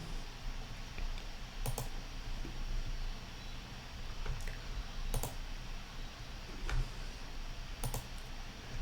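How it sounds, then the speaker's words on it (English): Computer mouse clicking at a desk, a few sharp isolated clicks spaced a second or more apart over a faint steady hiss, no talk. "So I'm just clicking a few."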